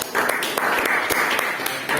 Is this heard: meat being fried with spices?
no